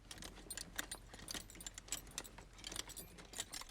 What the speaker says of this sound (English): or the sound of a horse's reins